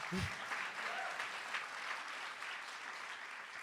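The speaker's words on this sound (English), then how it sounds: "We clap for that." A short burst of applause from a crowd at a Working Families Party statewide gathering in New York, steady clapping throughout at a moderate level.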